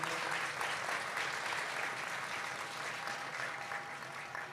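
An audience at a Saturday community gathering in Edmonton, Canada, applauding in a dense, even roar of many hands, moderately distant and sustained throughout.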